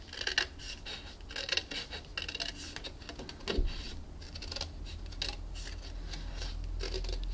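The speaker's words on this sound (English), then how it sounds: "And then I'm going to cut along this score line here." Scissors snip through paper card stock along a score line, giving close, dry crunching cuts in a steady series of short strokes over a low background hum.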